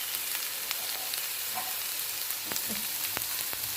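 Homemade chicken sausages sizzle in a pan with onion and capsicum, a constant bright frying hiss broken by a few soft stirring clicks and pops.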